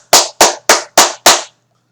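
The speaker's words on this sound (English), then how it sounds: "I'm clapping for you again" One person claps hands five times at an even, moderately quick pace, each clap sharp, close and loud, followed by silence.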